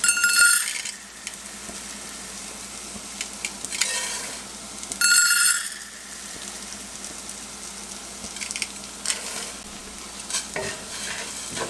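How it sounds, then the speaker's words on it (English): Rice tipped into a pan of onions and bacon, then stirred: a few bright scraping, clinking bursts from a spoon working the grains, over a low steady sizzle, close and with no talking. "So now we're just going to add in our rice."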